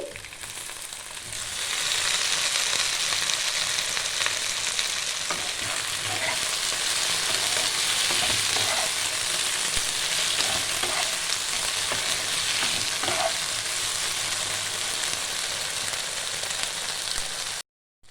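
Drained okra frying in a pan for Bengali bhindi chorchori makes a loud, dense sizzle that holds steady throughout, with occasional stirring scrapes and clinks, near and without talk, ending abruptly.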